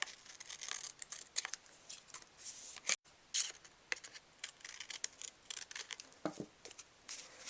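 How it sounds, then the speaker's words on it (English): Decorative shears cutting paper for an Easter egg card, a string of short crisp snips and papery scratches at close range, fairly quiet and irregular, with no talk. "You're going to cut both sides of it with the decorative shears"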